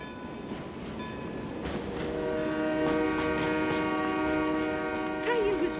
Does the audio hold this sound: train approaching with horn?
yes